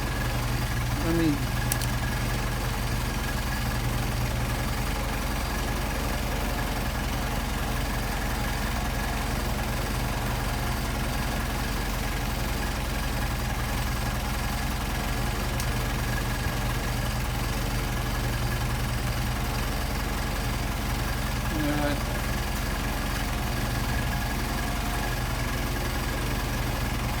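A Mercedes 190SL engine idles on Solex 44PHH carburetors, a steady, even low rumble that holds unchanged for the whole stretch at moderate level.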